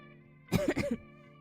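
Two quick, close throat-clearing coughs from a person streaming while drawing concept art, with faint steady background hum around them.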